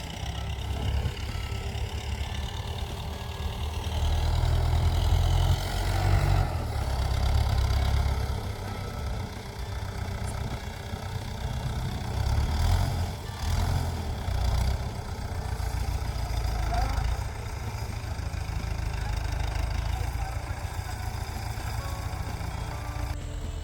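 A farm tractor with a power-steering setup and its rotavator just unhitched runs steadily in a field, a low rumbling engine idling without a break, close and continuous, with no voices over it.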